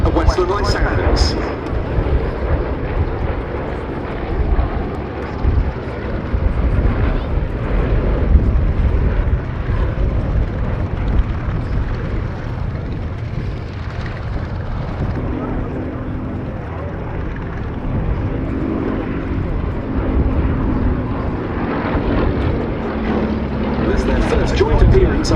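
At the Duxford Battle of Britain airshow, a Gloster Gladiator and Westland Lysander fly overhead, their piston engines a loud continuous drone throughout, with a commentator talking over it.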